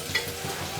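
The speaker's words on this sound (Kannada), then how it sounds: "ಕುಕ್ಕರ್ನಾಗ ಎಣ್ಣೆ ಹಾಕಿ ಮತ್ತು ಉಳ್ಳಾಗಡ್ಡಿ ಹಾಕಿ ಬಿಸಿ ಹಾಕಿಟ್ಟಿದ್ದೆ" Onions frying in hot oil inside a pressure cooker: a steady, close sizzle with soft stirring scrapes over a brief moment.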